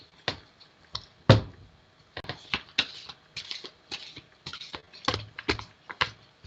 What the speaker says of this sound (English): I'll shuffle the deck for you anyway, Sherita.